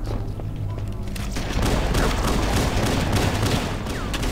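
Shotgun fire in the Halo video game, rapid repeated blasts and booms in dense succession during a firefight, loud throughout with a voice briefly talking over it.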